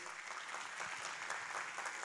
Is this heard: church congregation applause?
yes